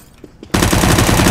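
After a few faint taps, a loud burst of rapid automatic gunfire erupts in a first-person shooter game and keeps hammering close and continuous to the end.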